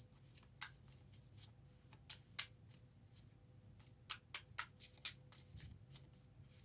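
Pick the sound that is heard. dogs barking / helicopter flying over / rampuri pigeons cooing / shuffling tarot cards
shuffling tarot cards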